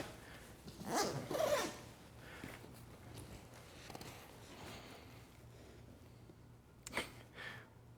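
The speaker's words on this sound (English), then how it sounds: "So the primary way that you get into the bag is through the back zipper." The main back zipper of a Peak Design Travel Backpack 45L is pulled open in two short, close rasping runs, one early and another near the end, with quiet handling in between.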